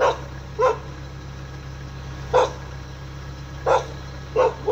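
A small female dog barks four times in short, evenly spaced bursts, sounding close and annoyed while resting by its owner near a roadside neighborhood, with a steady low hum underneath.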